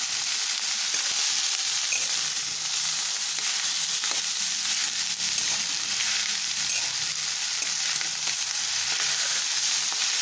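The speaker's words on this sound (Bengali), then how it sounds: "বাটারটা দিয়ে পেঁয়াজটা ভেজেছি" Onions frying in butter in a pan, making a steady, close sizzle that runs unbroken throughout, with no voices.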